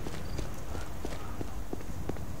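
Pony hooves clip-clopping in the video game Divinity II, an even rhythmic series of hoof clops at a walking pace, moderately close over faint background noise.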